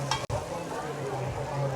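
A gram-flour batter with turmeric sizzles in a pan as a spoon stirs it, with one sharp scrape near the start and a steady crackle throughout.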